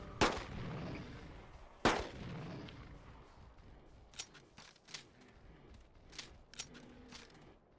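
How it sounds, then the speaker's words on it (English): Revolver shots in the dinosaur hunting game Carnivores Dinosaur Hunt: two loud, sharp blasts with long decaying echo, followed by a series of quieter clicks and mechanical handling sounds. "like again, 3 shots and it's still not even enough to bring it down"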